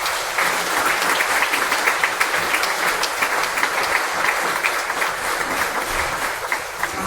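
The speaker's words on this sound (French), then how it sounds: "Et on va même les applaudir, ceux qui sont dehors" A church congregation at Mass applauds, a dense, even burst of many hands clapping that holds steady throughout with no voices over it.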